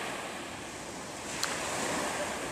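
Calm, fairly flat sea lapping on a beach near Muscat, Oman at dusk, a soft steady wash of gentle surf with light wind hiss and one small splash, fairly quiet and even.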